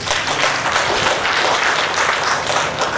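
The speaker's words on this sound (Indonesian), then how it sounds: "jadi tolong berikan mereka aplaus" Sustained audience applause fills a hall at a public health molecular biology laboratory launch in Nusa Tenggara, dense steady clapping from a large crowd at full loudness throughout, with no talk over it.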